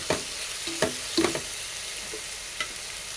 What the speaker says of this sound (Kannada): ಇದು ಬಂದು ಚೆನ್ನಾಗಿ ಫ್ರೈ ಮಾಡ್ಕೊಳ್ಳೋಣ ಎಣ್ಣೆಯಲ್ಲಿ.